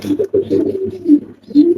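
Pigeons coo in low, throaty rolls close by at a feeder in a pigeon loft, a few overlapping calls with brief pauses between them.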